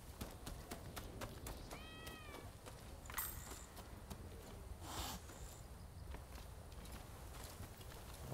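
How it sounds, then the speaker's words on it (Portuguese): Frightened cat meowing in the video game Rise of the Ronin, a short rising meow near the two-second mark amid soft footsteps and ambient game sounds, faint and without talk. "O gato que fica assustado."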